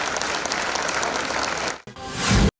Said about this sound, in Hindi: क्लैपिंग करें इस बच्चे के लिए।